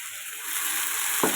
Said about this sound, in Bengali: আদা রসুন কাঁচামরিচ ভাজা হয়ে গেছে, এবার দিয়ে দিচ্ছি সামান্য পানি